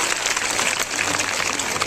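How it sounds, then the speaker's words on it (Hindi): An audience at a school Teachers' Day cultural program applauds with steady, dense clapping that holds at an even level throughout. "तालियां तो बनती हैं।"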